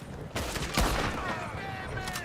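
Rapid gunfire in the Western video game Red Dead Online, a dense volley of sharp shots that starts abruptly and keeps going steadily, loud and close, with a few brief tonal whistles over it.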